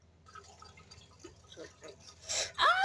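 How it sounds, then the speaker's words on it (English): Tap water poured over freshly strained spaghetti in a kitchen, a soft splashing rush that builds toward the end of the clip after quieter drips and handling sounds. "We're going to strain, run some water over it, and set aside."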